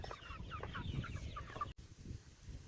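Chickens in chicken tractors on a small farm cluck softly and steadily at feeding time, a close, low murmur of bird calls that cuts out briefly, then resumes more faintly.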